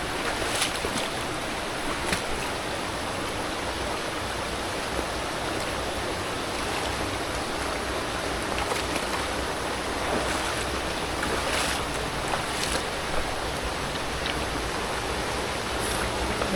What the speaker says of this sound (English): Try and go back across this river without falling in.